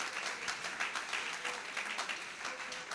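A church congregation claps and applauds through a French worship service, a steady, dense patter of many hands that holds at an even level throughout.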